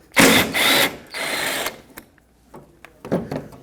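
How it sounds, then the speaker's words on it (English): A T45 Torx bit driven against the tailgate cable bolt on a 2009-2014 Ford F-150, heard as two close, loud whirring bursts of a power driver, then quieter ratcheting clicks and a final short burst. "use a T45 Torx bit and remove this bolt that holds the tailgate end of the cable onto the"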